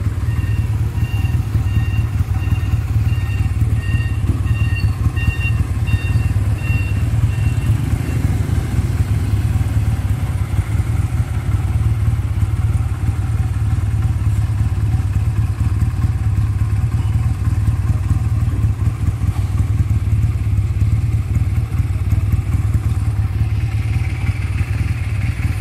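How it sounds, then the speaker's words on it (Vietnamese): A Honda Rebel USA Deluxe 170cc motorcycle runs loud and close in a steady, even idle, with a few throttle blips early on and no one speaking over it. "Ga đơn tay nổ rất là nhuyễn nha,"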